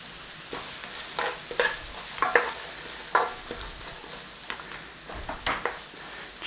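Carrots fry in a little oil in a pan over the flame, a soft steady sizzle close by, broken by scattered scraping stirs of a utensil; no voices.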